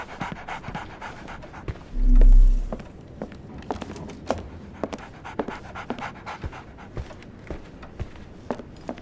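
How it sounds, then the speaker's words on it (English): A dog pants in Sherlock Holmes The Awakened, the 2023 remake video game. The breathing is quick and rhythmic and close, with one brief muffled thump and a few soft knocks. "So, Barnes has a dog now. Who's a good boy?"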